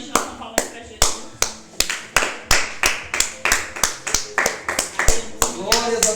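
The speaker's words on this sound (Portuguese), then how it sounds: "Eu que bati palma." Rhythmic hand clapping at a worship gathering, sharp evenly spaced claps at a steady pace, close and prominent, with faint voices in the background.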